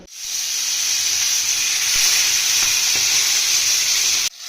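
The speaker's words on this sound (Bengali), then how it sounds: "মাছগুলো ভেজে নেব" Fish frying in hot oil in a karai gives a loud, steady, close sizzle with a bright hiss that holds for several seconds, dotted with faint pops, before cutting off abruptly.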